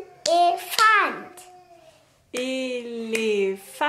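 A young girl claps out the syllables of a word, sharp hand claps landing between her spoken syllables in two separate bursts, close and clear.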